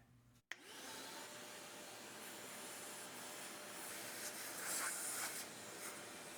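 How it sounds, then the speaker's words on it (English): A vacuum cleaner sucks dust out of a Dell OptiPlex GX110 desktop computer during a teardown, a steady close whooshing roar after a sharp click at the start, with slight surges as the nozzle moves. "That vacuum cleaner is definitely earning its keep with this system."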